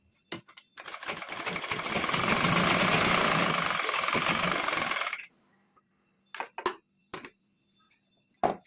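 A sewing machine stitches piping fabric onto the front piece of a princess-cut blouse, a close, loud mechanical whir that runs steadily for several seconds, then stops, followed by a few short clicks and taps.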